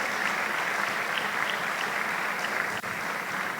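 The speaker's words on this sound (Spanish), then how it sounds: "dale un fuerte aplauso" Steady, dense applause from a church congregation honoring Jesus during a sermon, a continuous wash of clapping that holds evenly throughout.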